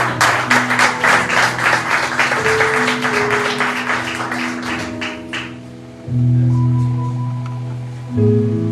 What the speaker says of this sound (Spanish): darle un fuerte aplauso al Señor